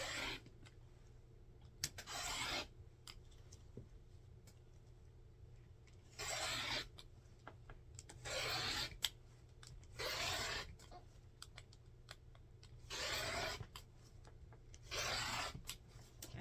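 Rotary cutter rolling along a Stripology ruler through cotton quilting fabric, slicing 2.5-inch strips for sashing: repeated rough scraping strokes of about a second each, separated by short quiet pauses, close and moderately loud with no talking.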